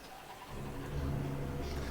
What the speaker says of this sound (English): fire up my engine